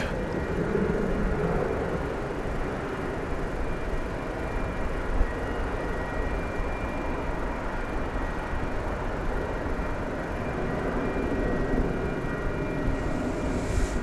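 At DFW Airport, a Boeing 787 Dreamliner airliner gives off a steady, broad jet roar that holds constant at a middle distance, a continuous rumble with no clear rise or fade.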